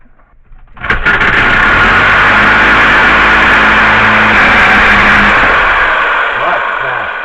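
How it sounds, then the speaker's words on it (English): Sawzall reciprocating saw cutting during a shovel repair, kicking in abruptly after about a second and running loud and steady to the end, with voices briefly audible near the close. "We'll get the old sawzall out."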